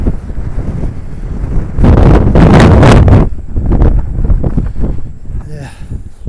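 Cold wind buffeting the microphone on a wild camping trip beside a lake between ridges, loud rumbling gusts with a stronger blast in the middle, while people talk faintly under it.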